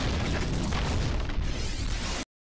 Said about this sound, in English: Oh, it blew itself up.